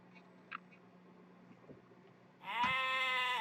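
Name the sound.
sheep bleating in a video game, Age of Empires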